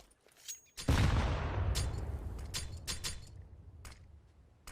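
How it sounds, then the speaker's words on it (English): A grenade goes off in Counter-Strike: Global Offensive, one loud close boom with a long rumbling tail that fades over several seconds, followed by scattered faint clicks and shots. "Grenade out."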